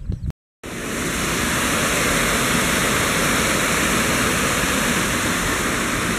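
A waterfall roars as a dense, steady rush of falling water, loud and close, after a brief moment of near silence at the start, with no voices.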